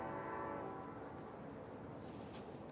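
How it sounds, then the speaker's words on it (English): A train horn sounds a long, steady, distant blast while someone fishes from a canoe, fading gradually with no one speaking. "sorry for the train"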